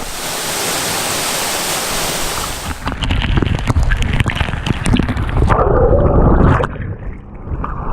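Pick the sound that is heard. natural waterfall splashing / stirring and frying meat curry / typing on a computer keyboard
natural waterfall splashing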